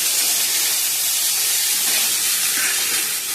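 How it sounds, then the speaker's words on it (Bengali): Boiled banana flower hitting a hot pan, a loud continuous steamy hiss that stays steady throughout, close and alone. "সিদ্ধ করে নিয়ে মোচাটা দিয়ে দিলাম"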